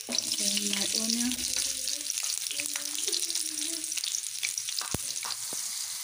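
Onion frying in hot oil in a pan as the base of a cucumber egg sauce, a steady close sizzle with a few brief clinks and faint tonal sounds over it.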